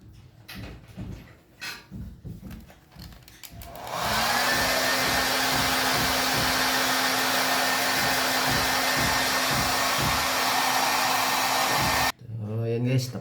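A blow dryer starts up and blows steadily on a puppy at a loud, constant roar for about eight seconds, then cuts off abruptly; brief talk comes before and after.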